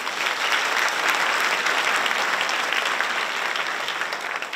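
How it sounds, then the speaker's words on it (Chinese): A large audience gives sustained, even applause welcoming a guest ambassador to an SDGs and Paris Agreement lecture, a dense wash of clapping that holds steady and fades slightly at the end. "现在让我们以最热烈的掌声欢迎简佑新大使进场。"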